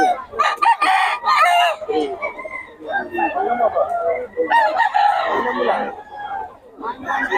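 A Gilmore Hatch Hennie gamefowl rooster crows loudly and close, with clucking fowl around it and people chatting nearby at a rooster sale.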